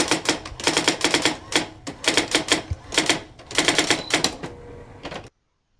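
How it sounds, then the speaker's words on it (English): Rapid typewriter keystrokes clatter in quick bursts with short pauses between runs, loud and close, used as a sound effect for a title typed out letter by letter, ending abruptly. "effect simulates the typing of characters on a computer screen"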